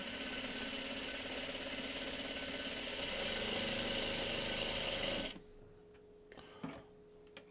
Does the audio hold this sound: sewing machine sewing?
yes